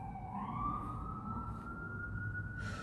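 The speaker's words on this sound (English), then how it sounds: "There goes those sirens again." An emergency vehicle siren wails outside, sweeping upward and then holding a long rising tone as it passes over a low road rumble, heard alone without speech.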